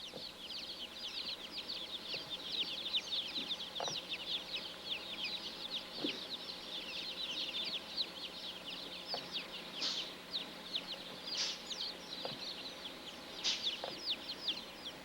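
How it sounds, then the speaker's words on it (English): A dense chorus of newly hatched chicken chicks in a hatchery, many high-pitched cheeps overlapping continuously at a moderate distance, with occasional faint thumps beneath. "These chicks are hatched as nature would have them."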